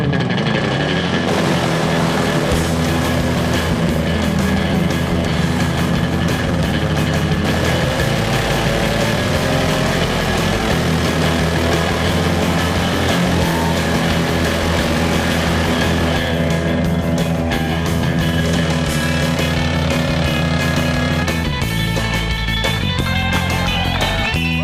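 An off-road truck, in the 2000 Top Truck Challenge, powers through mud at wide-open throttle, with a heavy, loud engine roar that holds steady and close for the whole stretch.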